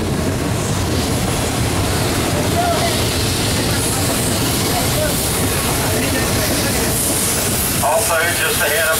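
A 1905 Shay geared steam locomotive pulls a passenger train on the Cass Railroad in West Virginia, giving a steady rumble and hiss of rolling cars. A person talks over it throughout.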